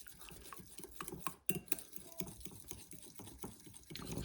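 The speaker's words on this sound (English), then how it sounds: "I want to get a spoon and a fork or something and just stir that up really well." Spoon or fork stirring salt and black pepper together in a bowl, a busy run of light clinks and scraping taps, close and continuous with no talk.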